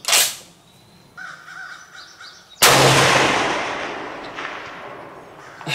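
A Swiss K31 rifle fires on an outdoor long-range course at 500 yards: one loud, sharp crack midway with a long rolling echo trailing off, and a fainter burst right at the start. No one speaks.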